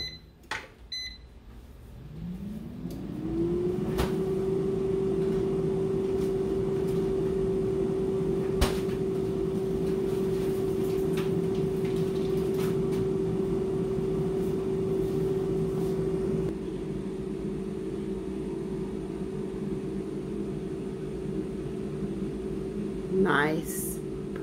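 An air fryer cooking bacon hums steadily after a rising whir as its fan spins up, with a sustained tone and a few light clicks over the top, while a person talks now and then.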